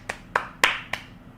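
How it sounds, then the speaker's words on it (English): Four sharp hand claps spaced evenly about a third of a second apart, close and fairly loud, marking the recovery of a Falcon 9 booster during a Starlink launch broadcast; no talking. "We need claps."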